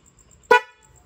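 A single short motorcycle horn beep sounds sharply, close and loud, then cuts off against quiet background, at night.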